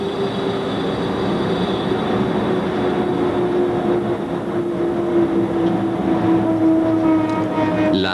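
A locomotive on the Pontebbana railway line runs steadily on the rails, a continuous loud rumble with a tonal hum that lasts throughout.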